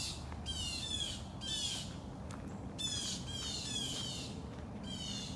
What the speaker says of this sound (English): Oh, it's a very rowdy bird.